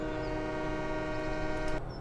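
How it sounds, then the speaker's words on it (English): A loud, sustained chord-like blast from a train horn on an American train mod in Farming Simulator 17 sounds alone and steady for under two seconds, then cuts off abruptly. "And of course the train horn,"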